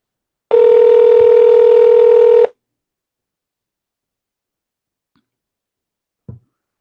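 Telephone dial tone, a steady loud hum lasting about two seconds, then silence with a brief faint knock near the end.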